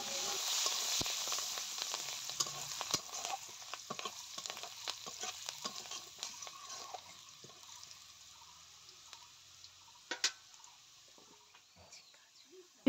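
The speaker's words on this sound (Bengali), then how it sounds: "তো এখন রসুনগুলোকে ভাজা ভাজা করে নেব" Chopped garlic fries in oil in a village kitchen with a moderate crackling sizzle and frequent stirring clicks that fade gradually toward the end.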